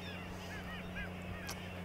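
Geese honk repeatedly in a faint, distant flock in Svalbard, over a steady low hum.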